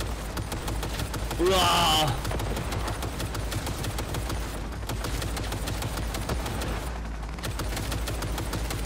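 Rapid automatic gunfire rattles through a firefight in the video game Cyberpunk 2077, dense repeated shots over a steady game soundscape, with a player shouting briefly over it.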